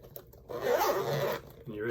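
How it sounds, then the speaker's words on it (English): Zipper drawn shut on a CraftOptics glasses case, one smooth close rasping zip lasting about a second, with a voice talking briefly around it. "Zip that up."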